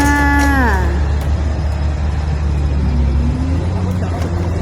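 A large wheel loader works at a rock site, its diesel engine droning steadily and loud throughout, with a falling whine of the machine at the start and a rising tone near the end.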